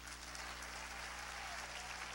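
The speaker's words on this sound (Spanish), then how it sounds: "Un aplauso a Cristo." A church congregation breaks into applause, a dense even patter of many hands clapping together for a couple of seconds, faint and distant.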